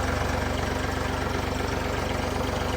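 A Ford 3600 tractor engine idles steadily while running a generator, a loud, close, unbroken diesel chug with an even pulsing beat and no talk over it.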